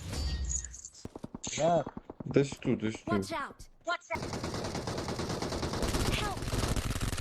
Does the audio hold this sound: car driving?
no